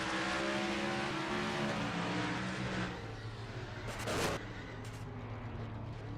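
A race car engine drones loudly and steadily in a video game's fictional Piston Cup stock car race, the tone dropping midway, with a brief burst of noise near the end and faint background noise.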